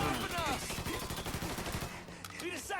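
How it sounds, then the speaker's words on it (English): Gunfire rings out in the Mafia 3 video game, a dense burst of rapid shots packed closely together and mixed with game sound effects, with the firing loosening toward the end. "now they're gonna start shooting."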